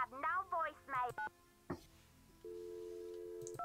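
Touch-tone keypad beeps from a phone being dialed in the Nancy Drew game Secret of the Scarlet Hand, a short burst of tones after speech, then a steady dial or line tone near the end.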